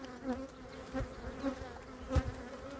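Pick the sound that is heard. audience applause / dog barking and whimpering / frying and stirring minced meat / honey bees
honey bees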